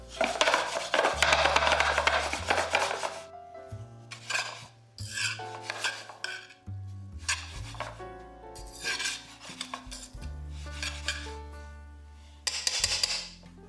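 Pasta with herbs tossed in a pan for a simple rustic dish, bursts of scraping and rustling against the metal broken by short pauses and low clunks, close and fairly loud, no talking.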